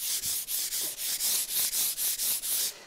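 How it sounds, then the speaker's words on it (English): Hand sanding of a polyurethane-coated wooden picnic table: steady rhythmic back-and-forth strokes, about a dozen evenly spaced rubs, close and fairly quiet, with no talking. "you give that a bit of a sand"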